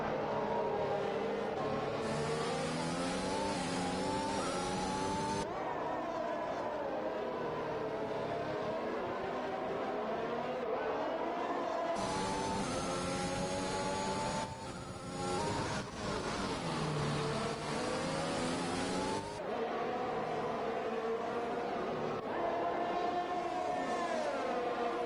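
F1 2021 game race cars roar down the straight at Interlagos in Brazil, sustained loud engine whine shifting in pitch as cars pass and change gear, with no pauses across the whole stretch.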